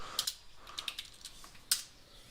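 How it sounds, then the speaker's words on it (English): Keyboard typing at a computer during a trading-platform search, a short run of light clicky keystrokes in uneven bursts with one sharper tap near the end, faint and close, with no talking. "Just type option wall."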